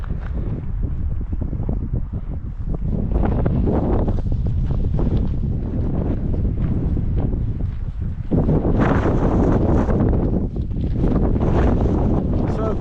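Strong wind on a high open ridge buffets the microphone in a loud, continuous roar with gusty surges throughout, and no voices are heard.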